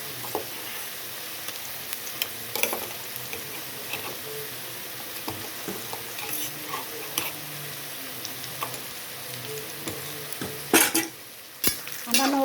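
Ginger, garlic and chili paste frying in a pan for a chicken dish. A steady sizzle runs underneath while a utensil stirs and scrapes with scattered ticks and clinks, ending in a few louder scrapes.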